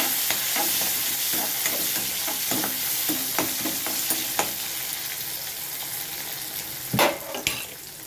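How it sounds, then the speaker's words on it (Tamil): Tomatoes sauté with onions in a pan, a constant loud sizzle broken by scattered clicks and scrapes of a stirring spoon against the pan, with a couple of sharper knocks near the end. "தக்காளி சேர்த்து நல்லா வதக்கணும்"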